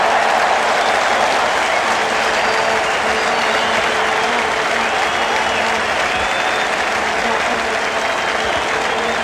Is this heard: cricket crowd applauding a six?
yes